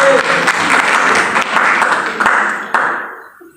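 Applause from a church congregation during a sermon at a prayer and fasting gathering on Gunung Salak, Bogor, a steady wash of many hands clapping that holds for several seconds, then fades out at the end.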